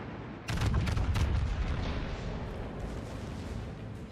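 Secondary guns of a warship fire in World of Warships, a burst of rapid booming shots layered over a steady low rumble of continuing gunfire, loud and close, with no voices.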